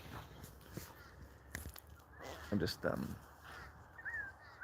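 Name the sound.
birds calling, crows cawing outdoors at sunset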